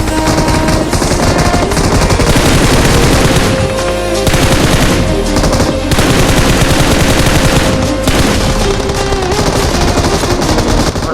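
Loud, nonstop automatic gunfire from the video game PUBG Mobile on the Erangel map, rapid bursts rattling over a constant mechanical drone, with brief lulls and no speech.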